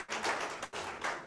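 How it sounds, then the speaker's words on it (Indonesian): Church congregation clapping their hands during a worship service, a loud wash of many hands beating in close bursts with brief dips between them. "Tepuk tangan dulu buat Tuhan kita."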